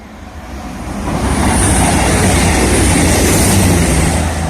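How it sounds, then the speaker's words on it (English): A CrossCountry Class 221 Super Voyager diesel train passes through Fitzwilliam station on the East Coast Main Line, a loud, steady roar that swells in the first second and then holds close and full, with no voices. "Coming through now is a cross-country class 221 Super Voyager."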